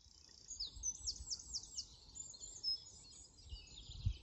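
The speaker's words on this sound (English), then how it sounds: "We'll end as we started with the sound of the birds singing." Birds sing in a rapid series of high, bright chirps and trills, fairly faint, over a quiet outdoor background with soft low rumbles.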